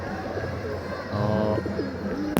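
Pigeons coo softly while feeding in a loft, low rolling calls overlapping in a quiet room, with a sharp tap near the end.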